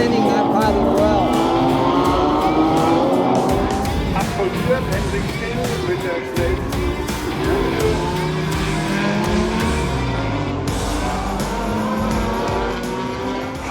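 A Toyota Supra DTM race car and other racing cars roar past at the Nürburgring, engines rising and falling through gear changes, loud and close, with a spectator's voice talking over the engine noise.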